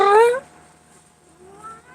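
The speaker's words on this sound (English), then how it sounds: "Don't meow at me." A house cat gives one loud, close meow at the start, followed by quiet room tone and a fainter, softer meow-like murmur near the end.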